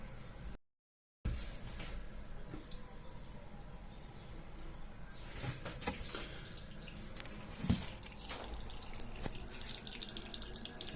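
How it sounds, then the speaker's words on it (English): Coffee dripping through a makeshift filter while travelling, faint irregular drips and soft trickling close by, with a few louder taps amid quiet background. "You see it dripping through there?"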